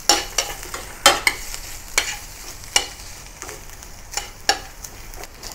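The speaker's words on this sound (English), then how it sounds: "put the onions, the ginger, and the garlic into the same pan and continue frying" Onions, ginger and garlic sizzle in a pan while a utensil scrapes and stirs in irregular taps and swishes, close up.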